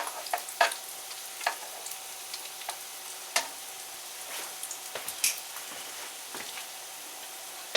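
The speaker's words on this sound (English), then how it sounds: "Once your grease gets hot, it'll start cooking just a little bit faster" Sausage, egg and vegetables cook in hot grease in a pan, a soft constant sizzle broken by sharp crackles and pops scattered irregularly throughout, close and fairly quiet.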